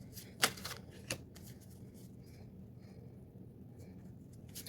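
A tarot card is picked up and flipped over with a quick papery snap and a second softer flick, close and quiet against a low background hiss.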